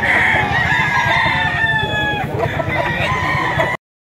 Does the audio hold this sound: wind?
no